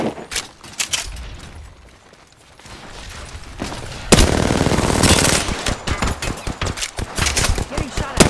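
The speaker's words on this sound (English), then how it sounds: "Getting shot at." Gunfire from an Apex Legends match, rapid automatic bursts and scattered shots rattling close and loud, with a heavier burst of fire in the second half and game callouts mixed in.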